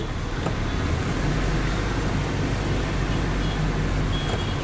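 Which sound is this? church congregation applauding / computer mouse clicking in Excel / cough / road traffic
road traffic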